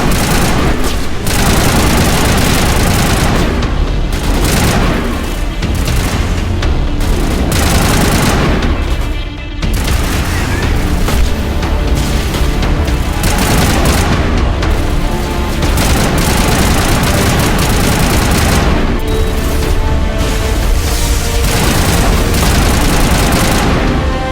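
Sustained heavy gunfire from a Mass Effect battle with Batarians, loud rapid machine-gun bursts mixed with booming blasts that hammer on almost without pause for over twenty seconds, with only a few brief dips.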